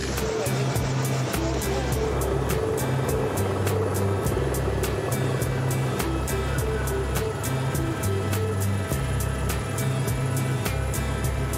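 Loud, continuous rotor thrum with rapid regular chopping pulses, heard from inside a helicopter near Saint-Tropez, with voices faintly under the roar.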